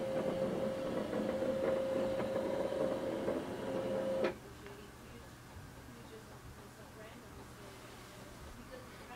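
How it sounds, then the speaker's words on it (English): An HP Deskjet 2755 printer whirs steadily as it scans, the motor's hum ending abruptly partway through, leaving quiet room noise, with a person speaking over it. "So you can hear the sound and also you can see the scan is coming."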